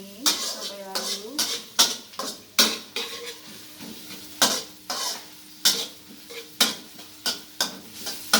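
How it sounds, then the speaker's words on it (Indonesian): Onions sautéed in a pan for nasi kebuli, with repeated sharp scrapes and knocks of a utensil stirring against the metal over a light sizzle, close by, with brief indistinct voice sounds between strokes. "Bawang bombay kita tumis sampai wangi, sampai layu."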